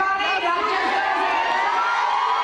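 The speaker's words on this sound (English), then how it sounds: "Hillary Clinton stopped by a nearby watch party to thank cheering supporters." Supporters at a Hillary Clinton watch party cheer and shout in a loud, sustained crowd roar with whoops rising over it.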